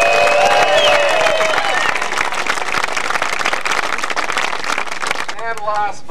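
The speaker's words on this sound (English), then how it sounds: "Big round of applause from Sheboygan" Crowd at a disc golf world championship in Sheboygan applauds and cheers, a dense, loud wash of clapping that stays steady before tapering, with voices calling out at the start and a speaking voice near the end.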